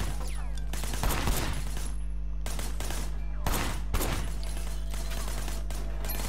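Gunfire in the video game Sleeping Dogs: several loud bursts of rapid shots crack out over a constant low droning hum, with short pauses between volleys.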